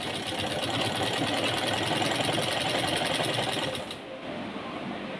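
Sewing machine stitching a farshi salwar, running in a steady, fast whirring rhythm throughout, loud and close, easing slightly near the end with no talking.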